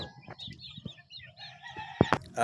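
Chickens cluck and a rooster crows nearby, with scattered short calls and a louder crow rising toward the end, no talking.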